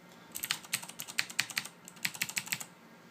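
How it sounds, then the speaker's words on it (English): A backlit mechanical computer keyboard being typed on in a quick, uneven burst of crisp key clicks with a brief pause midway, close but fairly quiet. "Here is my fully backlit keyboard. Mechanical."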